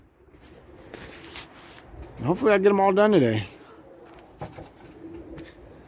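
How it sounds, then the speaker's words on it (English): Pigeons in a loft coo in one clear, close, rolling burst lasting about a second, while someone talks over the background. "These birds been flying all day today because they had the day today."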